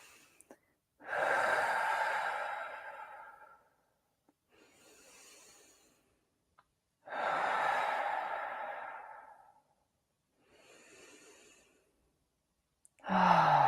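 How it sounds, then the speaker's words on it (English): Slow deep breathing: three long inhales through the nose, each followed by a softer exhale through the mouth, evenly spaced and close, with quiet pauses between them and no talk. "take 3 deep breaths in through the nose, out through the mouth"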